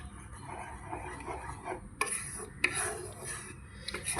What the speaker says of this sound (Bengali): কলাইটা আর আলুটা দিয়ে দেবো এর মধ্যে।